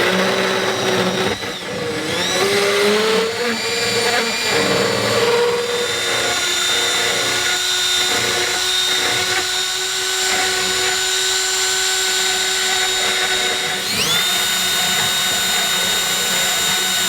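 Power tool grinding off a rivet on a van hinge clip, a loud, continuous high-pitched whine with a dip at the start, holding steady for the whole stretch without talk.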